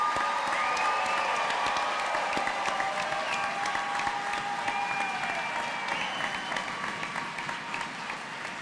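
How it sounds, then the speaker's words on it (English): A commencement audience at Georgia Highlands College gives the standing graduates a steady wash of applause, dense and sustained throughout, with faint crowd noise beneath. "One more round of applause."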